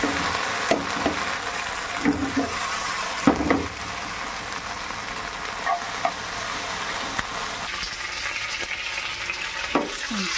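Tempering for mango dal sizzles hard in hot oil, a continuous bright crackle with occasional stirring clinks and scrapes, close and fairly loud, with no talk over it.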